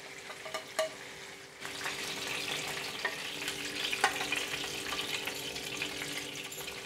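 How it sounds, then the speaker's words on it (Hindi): Fish pieces frying in oil for a fish curry, a continuous hissing sizzle that grows louder after a brief quieter opening, with a few faint clicks from the pan. "बाकी बची हुई फ़िश को भी इसी तरह से दो से तीन मिनट के लिए फ्राई कर लेंगे"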